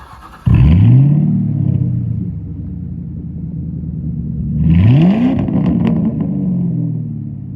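A 2001 Ford Mustang Bullitt V8 starts with a sudden loud rumble, revs up with a sweeping rise and fall, then settles before a second rev swells and eases back to a steady idle, close by, with no voices.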